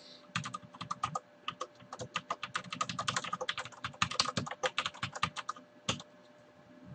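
Rapid, irregular keystrokes on a computer keyboard clatter close by for several seconds, a steady patter of clicks with brief pauses and no talking.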